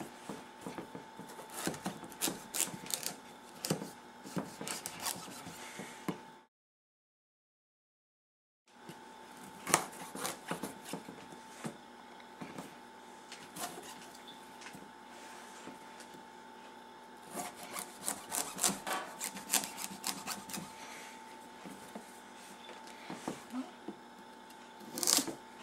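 A knife saws and scrapes through the tough rind of a Long Island cheese squash on a kitchen board, with repeated rasping strokes, a brief silent pause, then more steady cutting at close range, no talking.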